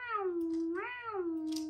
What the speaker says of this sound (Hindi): एक बिल्ली का बच्चा रो रहा होता